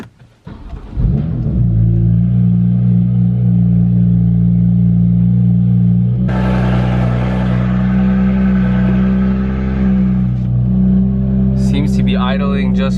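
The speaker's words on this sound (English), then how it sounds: "I'm gonna start the car up now." A BMW F80 M3 cranks and fires up after fresh NGK spark plugs, flaring loudly before settling into a steady, deep, smooth idle that carries on strongly.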